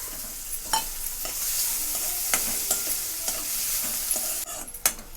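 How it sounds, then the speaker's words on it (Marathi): Chopped onion frying in hot oil with garlic and chili, a steady sizzle broken by several sharp scrapes and clanks of stirring, close and fairly loud with no talking. "मी कांदा टाकून घेतलेला आहे कांदा पण आपल्याला तेलामध्ये छान असा लाल होऊ द्यायचा आहे"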